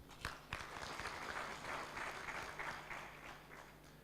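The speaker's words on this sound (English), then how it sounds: "Big round of applause to him." Applause from a seated audience at a pandemic preparedness project launch, greeting the IGAD Executive Secretary; a steady, moderately distant wash of clapping runs throughout at low level.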